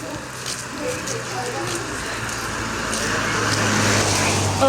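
Heavy rain falls in a steady hiss while road traffic passes nearby with a low, constant engine hum that grows slightly louder toward the end.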